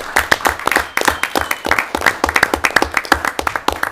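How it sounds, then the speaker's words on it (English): A town meeting crowd applauds a volunteer with a steady round of clapping from many hands, close and lively, sustained throughout. "we give that guy a round of applause"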